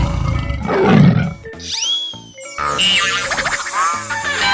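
A cartoon tiger in a 3D animal slide video game lets out a loud, rough roar, followed by boing sound effects and cheerful game music.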